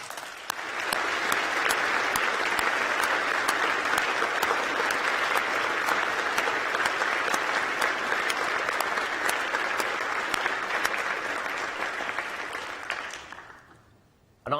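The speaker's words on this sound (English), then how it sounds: "Another round of applause" Sustained round of audience applause at a University of York graduation ceremony, broad and even clapping filling the hall for about thirteen seconds before fading out to near silence.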